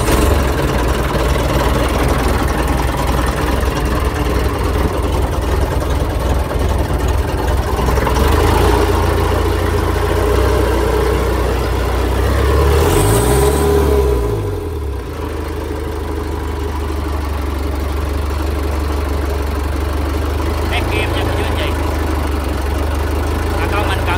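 An Isuzu four-cylinder engine in a 3.5-tonne wooden boat idles with a loud, steady diesel rumble, revving briefly in the middle before settling back to a continuous chug, heard close up while someone speaks nearby.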